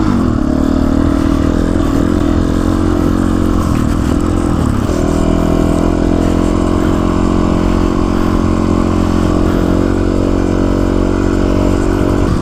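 A GPX FSE 300 R dual-sport motorcycle being ridden, its engine droning loud and steady with a brief shift in tone partway through, wind and road rumble mixed in and no voices.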